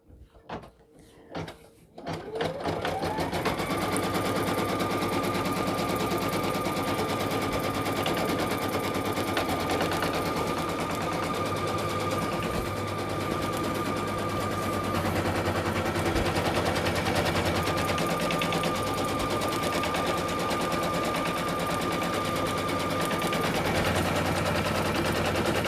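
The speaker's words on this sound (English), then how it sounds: "this is gonna be the placement stitch for the feature fabric" An embroidery machine sews a placement stitch for an applique on a sweatshirt. After a few start-up clunks comes a loud, continuous rapid rattle of the needle that runs for over twenty seconds.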